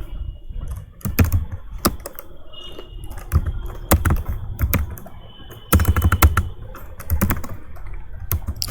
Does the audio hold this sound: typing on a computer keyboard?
yes